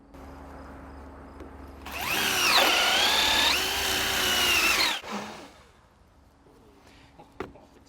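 A power drill bores a hole with a 1.25 inch spade bit while installing an LED-lit post, a loud whining spin-up lasting about three seconds before stopping abruptly, followed by quiet handling noises.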